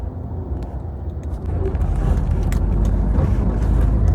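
A car drives along Highway 305 toward a reservoir in Nakhon Nayok, Thailand, heard from inside the vehicle as a steady, loud engine and road rumble that swells slightly partway through and continues without a break.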